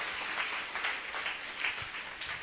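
A church congregation claps in a short burst of applause, fairly faint and somewhat distant, with uneven rhythmic pulses.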